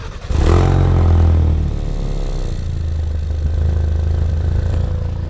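A Ford Focus RS engine revs hard at full throttle, close and loud, surging up sharply then holding a steady, droning roar for several seconds.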